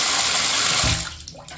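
Tap water pours steadily into a bathtub during a drain linkage overflow adjustment, a loud close rushing stream that cuts off near the end, leaving faint drips.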